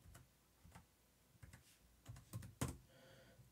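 Faint, close keystrokes on a computer keyboard enter a password, a sparse, irregular sequence of light clicks with a couple of sharper taps near the end and no talk.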